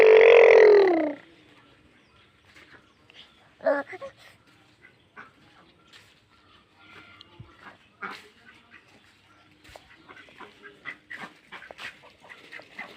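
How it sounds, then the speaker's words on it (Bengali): Ducks on a quiet rural roadside near Gazipur call loudly in a short burst at the start, then only faint scattered sounds and a little distant activity follow. "এখন কত সুন্দর হাঁস।"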